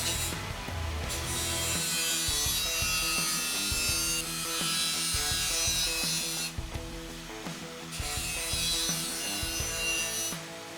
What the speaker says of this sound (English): I'm just going to use a sanding disc and get them closer to the outline of the template